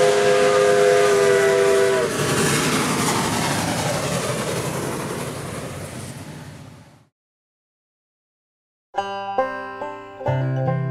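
A steam locomotive gives a loud, sustained whistle blast, then a long hiss of steam fades out to silence, and music starts after a pause.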